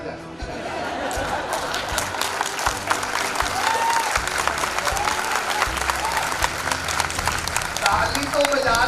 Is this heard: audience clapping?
yes